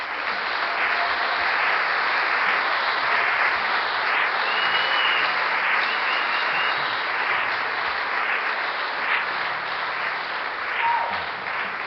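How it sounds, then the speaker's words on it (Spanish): A church congregation applauds during a sermon, steady dense clapping from many hands that holds for the whole stretch without a pause. "Le damos un aplauso."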